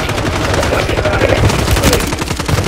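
Rapid automatic gunfire in Call of Duty: Warzone, a loud, fast, steady stream of shots close by, filling the whole short stretch.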